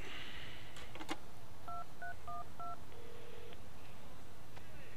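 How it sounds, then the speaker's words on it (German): A telephone keypad in the Prison Break: The Conspiracy video game sounds a quick series of short dialing tones and then a longer tone, under a steady background hiss and a few clicks. "Das Telefon."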